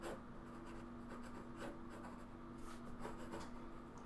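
A pencil scratches across paper in short, steady strokes sketching fabric folds and wrinkles, close and quiet over a faint constant hum.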